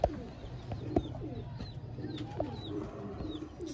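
Ferozpuri pigeons coo in soft, low, throaty bursts that repeat close by, with a few brief higher bird chirps scattered over a steady background murmur.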